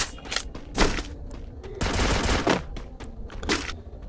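Rapid bursts of automatic gunfire in a shooting video game, loud close fusillades separated by brief pauses, with occasional thuds and no talk.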